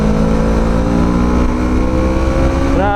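FKM Falcon X400 motorcycle accelerating hard on a highway, its engine loud and close with a rising, revving drone and some wind noise, climbing in pitch at the very end.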